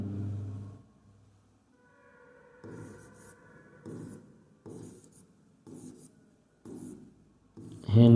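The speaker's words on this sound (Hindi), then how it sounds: "तो चलिए यहाँ लिखेंगे" Chalk or marker writing on a classroom board, a series of short scratchy strokes in bursts roughly every second, close and clear, following a brief spoken phrase at the start.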